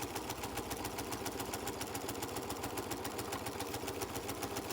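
A sewing machine runs steadily through a beginner's practice stitch, a fast, even mechanical whir with rapid regular needle clatter, close and continuous throughout with no talking.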